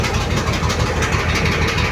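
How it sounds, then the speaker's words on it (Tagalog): A car engine with a broken exhaust pipe runs rough and loud, its low throbbing rumble pulsing unevenly and close by without any talk. "ang pangit ng anda ng ating makina mga idol dahil naputol po ang tambutso"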